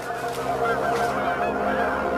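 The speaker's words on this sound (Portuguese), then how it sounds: "Alguns sugerem que foram gansos." Geese honking loudly and nearby, a continuous overlapping chorus of nasal calls with no pause.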